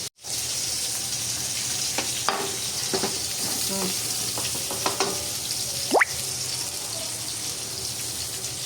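Loitta (Bombay duck) fish fries in hot oil with a continuous, even sizzle, broken by a few light clinks and a brief scrape, heard up close.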